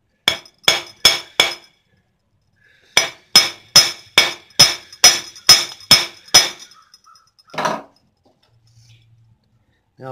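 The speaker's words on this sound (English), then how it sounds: "as you hammer these things, they have a tendency to move" Sharp hammer strikes ring out in two quick bursts, four blows then about ten more in a steady rhythm, followed by a lighter metallic knock, outdoors in Florida.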